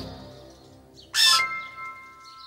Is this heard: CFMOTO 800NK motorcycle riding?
no